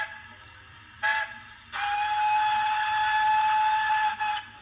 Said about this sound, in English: Got a chime whistle as well.